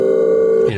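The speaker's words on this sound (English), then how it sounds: "That's like a spirit portal." A magical spirit portal sound effect hums as a steady tonal drone that suddenly drops and warps into a lower swirling tone near the end, loud and alone.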